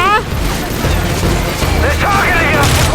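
Gunfire in Call of Duty Modern Warfare 3 during a desert battle, with loud overlapping shots and booms over heavy rumble and a rising alarm tone, while someone talks over it.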